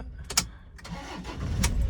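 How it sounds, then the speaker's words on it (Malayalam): A Toyota Innova with a worn steering column boot cranks and starts normally, catching after a few quick bursts and settling into a close, low idle. "നോർമലായിട്ട് തന്നെയാണ് സ്റ്റാർട്ടാകുന്നത്"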